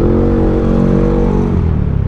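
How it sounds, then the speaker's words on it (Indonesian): Loud, close engine note from a Yamaha XMAX 400cc scooter with an upgraded engine, a steady droning rev with a slight wobble and no talk. "Tapi emang ada suara aneh-aneh sih dari mesinnya ya."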